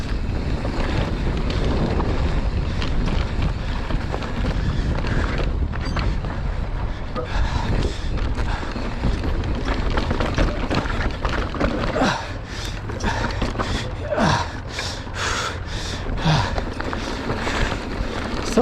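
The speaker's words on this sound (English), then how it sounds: "Really windy right here. I'm exposed and open. No tree coverage." Strong wind buffets the microphone on an open, exposed mountain bike trail with no tree cover, a loud, steady roar with gusty surges throughout.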